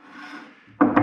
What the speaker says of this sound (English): I'm sanding down wood with it because I have to get this tube a little closer.